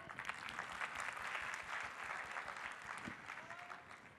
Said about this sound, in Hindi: बोलना जरूरी है, तो इनके लिए तालियां।